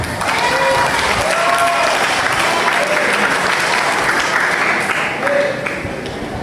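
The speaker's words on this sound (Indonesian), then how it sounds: "Tepuk tangan." Loud, dense applause from a large audience at an Islamic boarding-school lecture, sustained and steady with some crowd noise, with faint voices and whistles mixed in across the whole stretch.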